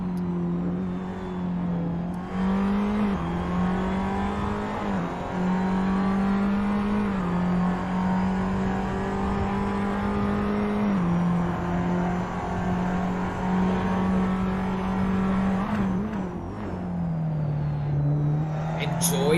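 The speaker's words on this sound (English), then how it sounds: "Enjoy the revs of those engines. You can hear the downshifts in the way the gears just clunk as they get into position." Race car engines in a racing series qualifying session rev steadily and loud, the pitch rising and dropping through repeated downshifts with gear changes, a continuous close engine drone throughout with some voice underneath.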